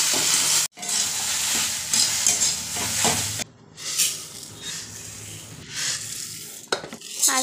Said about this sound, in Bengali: মাছ ভাজি চলছে, মাছ ভাজি হয়ে গেছে প্রায়।